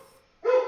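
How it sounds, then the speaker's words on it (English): A Pomeranian gives a single short yappy bark in the Toontown video game, sharp and fairly clear after a brief quiet moment. "They can hear the Pomeranian barking on the other side of Toontown"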